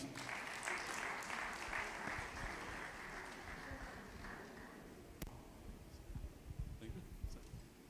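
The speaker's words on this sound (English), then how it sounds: "the last speaker deserves a better round of applause" Conference audience applause at a breakout session on traditional, complementary and alternative medicine, a dense clatter of clapping that stays fairly even, then thins and fades over several seconds, with faint voices beneath.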